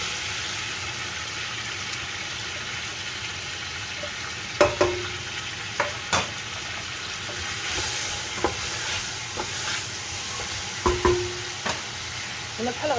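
Meat sizzling in oil with spices in a pot for a Saudi marqooq stew, stirred with scattered scraping clicks over a steady low frying hiss, fairly quiet and with no voices.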